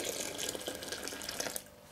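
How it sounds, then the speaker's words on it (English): Boiling water pours steadily with a soft splashing rush, fairly quiet and continuous, then tapers off near the end. "Last but not least, 1 cup, 250 mils of boiling water."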